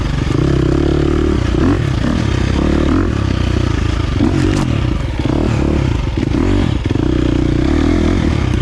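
A 2023 KTM 350 XC-F dirt bike engine runs loud and close during a break-in ride, a continuous throaty drone with clattering and small throttle changes.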